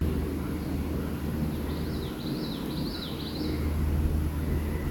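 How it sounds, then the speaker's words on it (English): Birds sing on a hiking trail near wetlands, a few faint high warbling phrases rising over steady low background noise and a distant aircraft-like rumble. "So I just sat down for a little bit and tracked the bird sounds."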